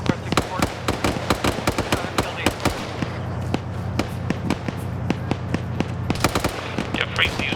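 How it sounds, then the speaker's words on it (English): Rapid bursts of gunfire and explosive cracks from a military shooter game, including an anti-tank round being fired, pop repeatedly throughout in irregular clusters, with voices talking over the combat. "I'm going to shoot an AT round"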